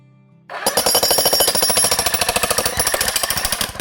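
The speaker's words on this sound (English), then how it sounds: "You don't need to apply any pressure while drilling because the tool is so heavy" A heavy rented demolition hammer with a chisel bit breaking up concrete starts abruptly and then runs as a loud, close, rapid pounding hammer rhythm that continues to the end.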